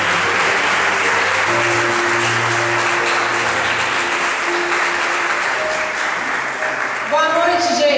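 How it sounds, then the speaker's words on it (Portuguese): Church congregation applauding steadily and loudly throughout, a dense wash of clapping with organ or keyboard tones sustained underneath and a few voices rising near the end. "dê uma forte salva de palmas para Jesus"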